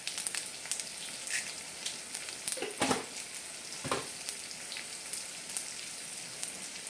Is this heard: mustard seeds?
yes